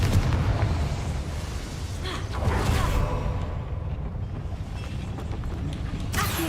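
Confringo blasting spell in Hogwarts Legacy, a loud rumbling burst that fades, then a fresh whooshing surge near the end.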